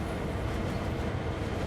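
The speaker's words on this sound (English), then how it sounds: "let's let this train roll onto the siding" Freight train coasting slowly at about 12 mph onto a siding in a Sand Patch Grade rail simulator, a steady low rumble of rolling wagons, continuous and fairly loud with no talk.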